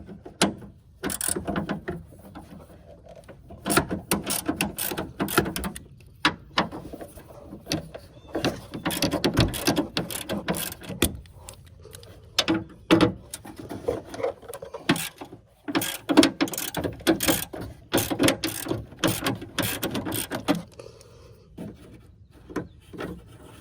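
Ratchet working 10 mm bolts loose on the bottom of a 2015 Chevy Tahoe A/C condenser, giving repeated clicking, scraping and rubbing bursts, close and moderately loud, with no talk.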